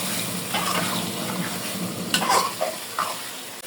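A spoon stirs deshi chicken and ground spices sizzling in a pan for a bottle gourd curry, giving a close frying hiss broken by scraping clinks against the pan.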